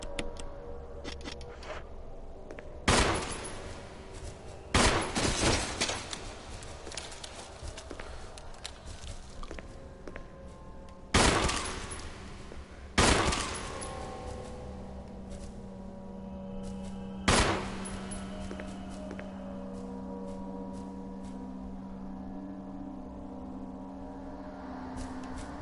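Sharp bursts of gunfire and grenade blasts from the PS4 Resident Evil video game, several separate loud bangs spread across a steady background hum of game audio.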